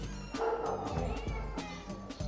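Cats meowing and caterwauling at an animal shelter, several drawn-out yowls in quick succession, close and loud with no talking.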